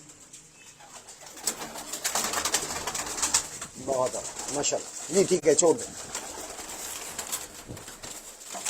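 Pigeons kept for sale coo and shift about while people talk over them; several soft, low coos stand out midway through, against a steady background hiss.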